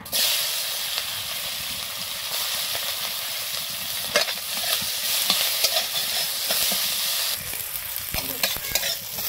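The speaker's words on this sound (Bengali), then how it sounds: "কড়াইতে দিয়ে দিলাম তেজপাতা, দিয়ে দেব পেঁয়াজ কুচি," Chopped onion and a bay leaf frying in a wok, with a loud, steady sizzle and hiss broken by repeated stirring scrapes and clatters and no talking.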